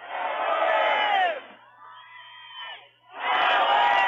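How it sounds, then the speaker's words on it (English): Large crowd at a women's college soccer match, Oklahoma State against Oklahoma, loudly chanting in unison, a sustained roar that dips into a quieter sung phrase before surging back at full volume. "You hear this big crowd here chanting Orange Power"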